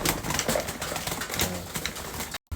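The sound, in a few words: pet pigeons feeding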